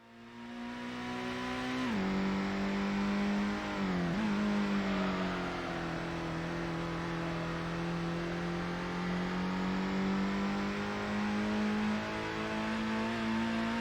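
In the Gran Turismo video game, a Toyota GTO engine drones steadily at Deep Forest Raceway, with its pitch dipping twice through gear changes and then climbing slowly in a long, loud, even hum.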